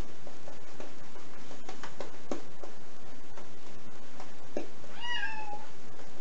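A single rising meow from a cat wanting to come in, near the end, somewhat distant, after a stretch of soft clicking and background noise.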